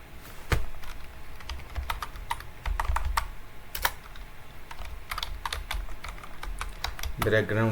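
Fingers type a layer name on a computer keyboard in Adobe Illustrator, with sparse, irregular key clicks spread across several seconds, close to the microphone and with no one talking over them.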